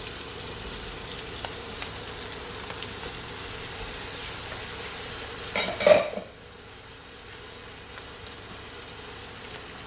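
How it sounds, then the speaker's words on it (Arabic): Chopped onion and broccoli fry in butter in a pan, giving a steady low sizzle throughout, broken once by a brief louder clatter of stirring or utensil contact partway through. "هنا دابا غادي نضيف هاد البصيله باش تشحر هنا في هاد الزبيده هادي"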